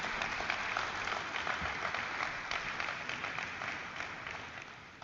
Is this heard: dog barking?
no